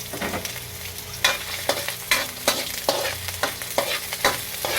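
Garlic, ginger and onion sauté in a pan with a continuous sizzle broken by regular spatula strokes, roughly one every half second, close up and without voices.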